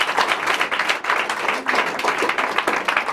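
A church congregation breaks into steady, dense applause, the clapping loud and close, with voices calling out underneath it.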